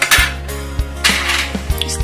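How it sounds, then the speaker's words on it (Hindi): Metal air fryer basket being opened and handled while instant golgappe puris are dropped in, several distinct clunks and rattling clinks in quick succession, close and fairly loud. "तो हम इसका बास्केट खोलेंगे और इसमें हमारे इंस्टेंट गोलगप्पे डालेंगे।"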